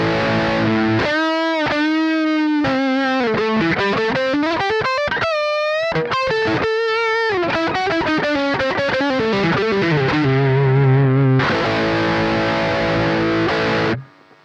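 Stratocaster electric guitar re-wired for a specific tone plays a sustained, singing melodic lead with bends and slides, loud and up front, moving into held chords near the end with no voices.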